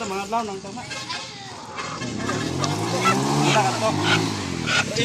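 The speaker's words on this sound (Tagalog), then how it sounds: "Yung dalawang manok." Two chickens call out loudly nearby, with a drawn-out, crowing-like cry rising and falling over several seconds amid background voices.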